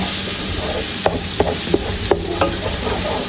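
Sauce for steak and wine spaghetti being stirred in a pan: a constant close sizzle with five or six distinct scraping strokes of a spoon at an uneven, steady pace, no talk.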